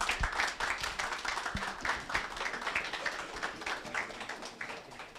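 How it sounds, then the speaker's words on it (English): Soft applause from an audience at a startup launch event, with quick, fairly even claps that continue steadily at a modest level, heard from some distance. "Round of applause."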